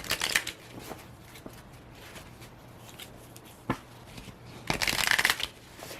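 A deck of Love Oracle cards shuffled by hand, with soft riffling and papery slaps in quick bursts, louder flurries near the start and end, close and unaccompanied by talk.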